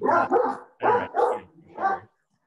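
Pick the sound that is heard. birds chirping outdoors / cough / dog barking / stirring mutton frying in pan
dog barking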